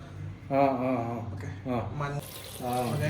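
Water splashes steadily into a pot of cassava and turmeric during home cooking, while people talk loudly close by.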